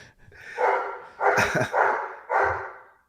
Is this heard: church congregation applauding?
no